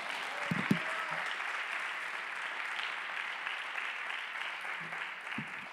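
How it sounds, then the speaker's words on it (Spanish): A church congregation applauds in praise of God, steady broadband clapping filling the space for several seconds, moderately distant with a few faint voices calling out. "Por eso se merece un aplauso fuerte nuestro Dios en su casa."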